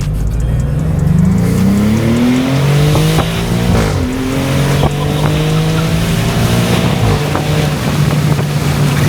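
2024 Maserati GranCabrio Trofeo with a 3.0-liter Nettuno V6 pulling hard through the gears, its loud engine note rising in pitch, dropping at a shift and climbing again under heavy wind noise from the open cabin.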